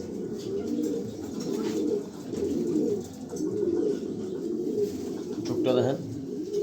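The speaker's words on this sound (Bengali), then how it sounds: "এই দেখেন এটা একটা হোয়াইট রেসার মাদি কবুতর।" A female white racer pigeon coos in low, throaty, repeated rolling phrases, close by and fairly loud, with brief pauses between bursts.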